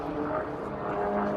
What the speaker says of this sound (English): This airplane's capable of running about 310 to 312 miles an hour straight and level on 100 horsepower.